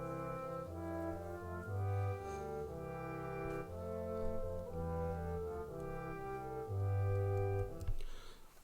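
A melody sounds over trombone and tuba bass parts, three brass voices in a simple composition with low held notes beneath a moving upper line, steady and close, no talk.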